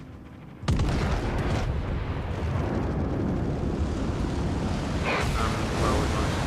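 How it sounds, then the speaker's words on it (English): A bomb from torpedo bombers lands on a battleship in the naval game World of Warships, a sudden deep boom giving way to a sustained low rumbling roar, with a second swell of rumble toward the end. "One bomb's landed, no fire."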